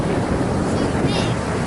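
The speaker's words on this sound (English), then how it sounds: "And the waves are getting bigger, aren't they, Pirate Rio?" Big ocean waves crash onto a beach in Cyprus as a storm approaches, making a loud, steady roar of surf mixed with gusty wind buffeting the microphone.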